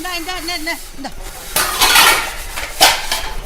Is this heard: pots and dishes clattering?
yes